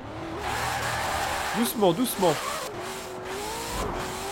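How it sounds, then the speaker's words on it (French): A Formula 1-style race car in Forza Horizon 4 revs in a few quick rising bursts, its engine tone climbing and dropping under someone speaking French. "On est sur un bruit de Formule 1 là quand même."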